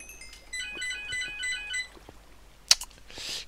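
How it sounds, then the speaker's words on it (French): A desk telephone beside the office desk rings in a short repeating electronic melody for about two seconds, followed by a few clicks and a brief rustle; no one speaks. "je suis désolé pour le téléphone qui sonne."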